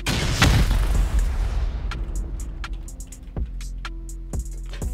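A rocket slams into an armored base wall in a video game with one heavy, close boom that decays over a couple of seconds, followed by scattered small clicks and thuds.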